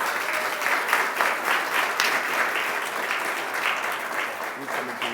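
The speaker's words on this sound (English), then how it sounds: "We want to thank Matthew Eugene for coming and making the presentation, so give him a round of applause" A crowd at a SUNY Downstate anniversary ceremony applauds after a presentation by a New York City Council member, producing a full, dense, sustained round of clapping that continues for several seconds with no talking.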